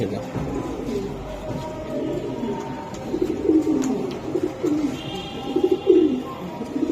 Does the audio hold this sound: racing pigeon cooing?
yes